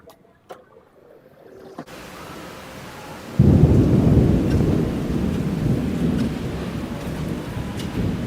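A quiet moment with a few ticks gives way to a sudden heavy thunderstorm downpour at the start of a hurricane in Florida, rain roaring loudly and steadily with a rumble beneath it.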